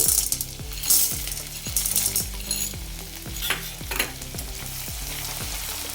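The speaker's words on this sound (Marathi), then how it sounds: "आपल्याला हा डिंक थोडा थोडा करून तळून घ्यायचा आहे" Edible gum (dink) frying in hot ghee in small batches, a loud continuous sizzle and crackle with repeated rhythmic scraping strokes of a stirring spoon against the pan.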